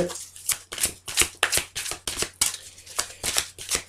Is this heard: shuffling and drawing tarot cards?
yes